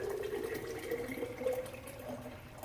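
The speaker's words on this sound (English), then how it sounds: "I'm going to fill this quart jar," Tap water runs steadily into a quart jar for spaghetti, a continuous close rushing and filling sound with no talking.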